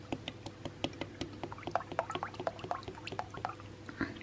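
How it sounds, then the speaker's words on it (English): Kenzo flower fragrance oil trickles and drips into a batch of body butter. The pour is soft and close, made of small irregular liquid patters over about four seconds. "we're just placing some Kenzo flower fragrance in here"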